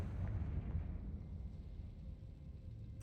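A Confringo fire spell exploding in the video game Hogwarts Legacy: a deep, rumbling blast that fades slowly into a low roar, with a brief sharp hit at the very end.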